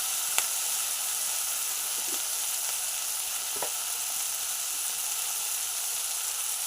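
Mutton frying in a pan with turmeric and ginger-garlic paste gives a steady, even sizzle throughout, with a few faint clicks and stirring taps near the start and middle.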